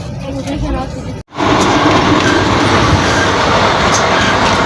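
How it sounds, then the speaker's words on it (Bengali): A passenger train runs fast on rails in Uttar Pradesh, with a loud, continuous roar and rumble of wheels heard from inside. A brief dropout occurs near the start, and a voice talks faintly beneath the din. "ট্রেন অনেক বহু জোরে চলতেছে"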